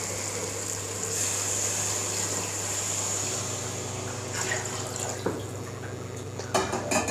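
Measured water pours into a chicken dum biryani pot, a steady splashing, trickling flow that runs continuously over a low background hum and ends in a few louder splashes and drips.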